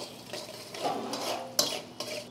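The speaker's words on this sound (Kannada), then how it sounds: "ಈಗ ಎಣ್ಣೆ ಕಾಯ್ತು, ನಮ್ಮ ಮಾಮೂಲಿ ಗೊತ್ತಲ್ಲ, 1 ಈರುಳ್ಳಿ ನೋಡಿ ಹಾಕ್ತಾಯಿದ್ದೀನಿ" Onion frying in hot oil in a pan, a low sizzle under irregular stirring scrapes and a couple of sharper metallic clinks from the spoon, moderately close.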